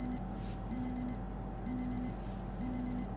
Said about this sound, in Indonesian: Ini alarm guys.